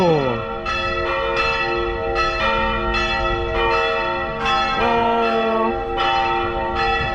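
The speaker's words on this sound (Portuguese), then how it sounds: "E aos sons do sino da Igreja Matriz aqui de Nova Trento que a gente encerra esse rolê." Church bells ring from the twin-towered 1942 Igreja Matriz in Nova Trento, Brazil, struck repeatedly in an uneven rhythm with long ringing overtones, loud and fairly near.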